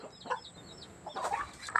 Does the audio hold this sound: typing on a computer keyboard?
no